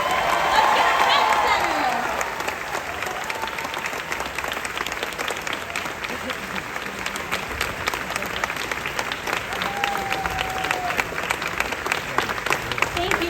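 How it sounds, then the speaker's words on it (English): A theater audience applauds at an anniversary presentation at Disney's Hollywood Studios, dense sustained clapping that is loudest at the start, eases slightly, then holds steady, with a voice speaking over it. "Keep that applause going."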